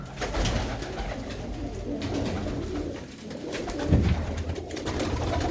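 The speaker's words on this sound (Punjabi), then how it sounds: "ਕਬੂਤਰੀਆਂ ਗੁੜਕਦੀਆਂ" Female pigeons kept at a pigeon stall coo steadily over a low, continuous murmur of background noise, with no speech.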